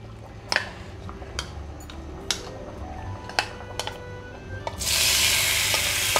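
Marinated chicken dropped into hot oil: after scattered clicks and light utensil taps, a loud, close sizzle bursts in suddenly and holds steady to the end.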